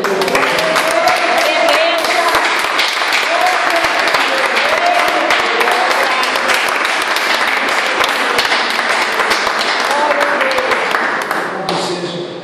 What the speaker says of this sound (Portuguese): Então aplauda Jesus com alegria no teu coração